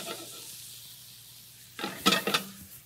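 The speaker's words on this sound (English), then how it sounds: "We're going to put a little spinach. We're going to saute this." Spinach and tomatoes sauté in a pan: a faint background hiss, then a close burst of sizzling and stirring scrapes near the end, with no voices.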